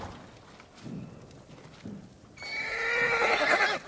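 A horse whinnies loudly in the video game Ghost of Tsushima, a long bright neigh in the second half following a few soft muffled snorts and movements.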